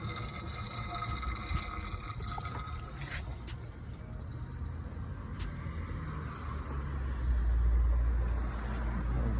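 Coolant drains out of an old truck that has sat for years, a steady close splashing trickle with low rumbling underneath that swells louder toward the end.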